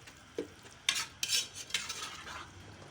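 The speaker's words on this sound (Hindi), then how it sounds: "अब इसको इतना भूनूंगी कि ये अच्छी तरह फ्राई हो जाए" Minced meat (keema) being stirred and fried in a pan: a few scraping and clattering strokes of a utensil against the pan come in short bursts, close by, over a faint low background, with no speech.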